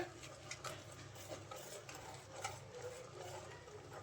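Ginger powder being stirred into a besan and milk mixture in a pan: soft, faint, rhythmic scraping strokes repeating steadily, close by but quiet.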